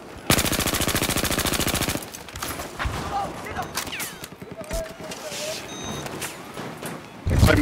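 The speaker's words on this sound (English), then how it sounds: "this is a pretty good gun" Rapid machine-gun fire in the video game Battlefield 4, a dense loud burst of automatic shots lasting under two seconds, then scattered distant gunfire and battlefield noise, with another burst starting at the end.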